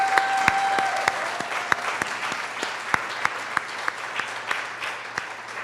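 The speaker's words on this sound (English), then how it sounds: "how about another round of applause for all 37 of this year's Women of Excellence?" An awards-ceremony audience applauds honorees, a continuous spread of clapping with several sharp, close individual claps standing out at irregular intervals; a faint tone hums underneath early on.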